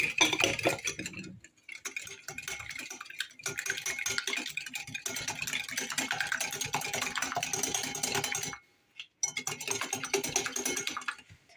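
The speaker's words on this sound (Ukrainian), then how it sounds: "тепер це все змішуємо до бульбашок" Rapid, continuous clicking and scraping of a whisk beating egg and sugar in a bowl until bubbly, steady and fast with a couple of brief pauses.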